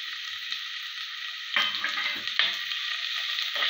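Chopped green chillies and onions fry in oil for an old-style fish curry, a steady close sizzle with a couple of louder bursts as pieces hit the pan or get stirred.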